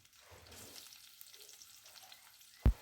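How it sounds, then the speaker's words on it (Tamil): Potato pieces fry in hot oil with a clove of garlic, giving a faint, soft sizzle that swells and fades, ending with a sudden loud clank of a utensil. "ஓகே, உருளைக்கிழங்கும் இது கூடவே சேர்த்துட்டு பொரிக்க ஆரம்பிச்சிடலாம்."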